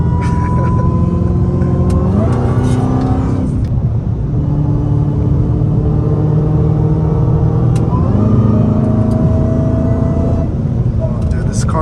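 A Dodge Hellcat Redeye's supercharged engine pulls hard on a canyon road, loud close revs climbing through gears with distinct shift drops, while a person talks over it.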